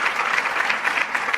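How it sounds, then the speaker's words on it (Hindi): A brief burst of dense audience clapping for actor Ashutosh Rana at a film trailer launch event, steady and fairly loud with no voices over it. "आशुतोष राणा साहब के लिए जोरदार तालियां हो जाएं"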